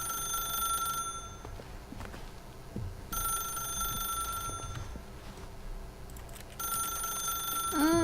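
A telephone rings inside the video game The Stanley Parable, three evenly spaced bursts of bright electronic trilling separated by quiet gaps, clear and fairly close with no talk over it.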